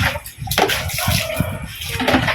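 Water splashes and sloshes in uneven bursts as a motorcycle is washed, loud and close, with a few sharper splashes along the way.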